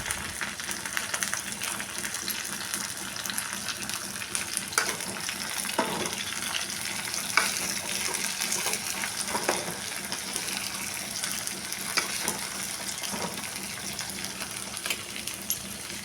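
Onions, green chillies and tomatoes fry in a pan with a steady, close sizzle that crackles continuously, broken by occasional soft stirring scrapes.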